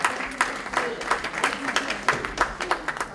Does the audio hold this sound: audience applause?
yes